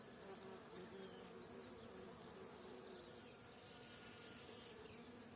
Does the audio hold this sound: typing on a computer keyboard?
no